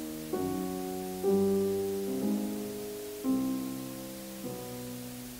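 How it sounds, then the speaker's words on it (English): Soft piano notes play one after another, each decaying slowly, over a steady faint hiss of added digital dither noise in the background. "here's that same example with a little bit dither added. And it's going to sound like hiss to you"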